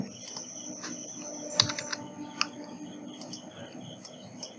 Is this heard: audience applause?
no